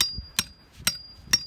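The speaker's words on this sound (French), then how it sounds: "Puis ensuite on enfonce la tige de fer" Three sharp, evenly spaced hammer blows drive an iron rod into a hole drilled for chemical anchoring while building a garden pond, ringing close and clear over a faint steady whine.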